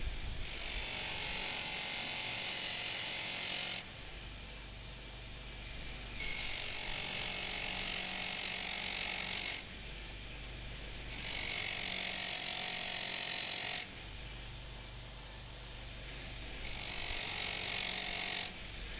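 A 36 grit radial bristle brush on a power tool deburring and cleaning the inside of a metal part, heard in four loud bursts of harsh high-pitched grinding, each several seconds long, separated by the tool's lower whirring hum.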